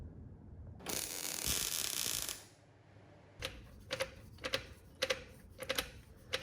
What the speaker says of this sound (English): That little click noise you're hearing is just the chain rubbing on this bottom section here